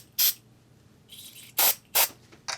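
Spray cleaner squirted from a can onto the end of a guitar amplifier cable, heard as four short, sharp hissing bursts in an uneven rhythm, close and distinct against a quiet background.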